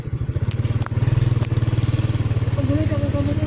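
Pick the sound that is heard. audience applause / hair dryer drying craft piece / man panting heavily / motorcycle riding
motorcycle riding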